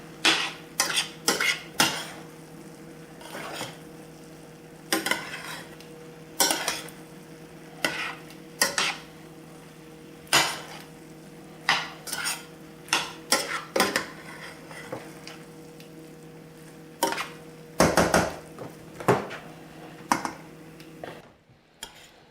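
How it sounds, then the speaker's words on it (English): Rice and vegetables stirred together in a pot for dirty rice, with repeated scraping clatters of a metal spoon against the pot in irregular bursts over a faint sizzle. "Just going to mix all that rice and vegetables together"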